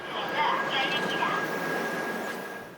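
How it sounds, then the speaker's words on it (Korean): A commuter train bound for Sinchang rumbles along at a steady, moderate level with a faint whine and squeal, while voices murmur underneath. "열차 몇 대를 보내고 난 뒤 신창 가는 열차를 탑니다"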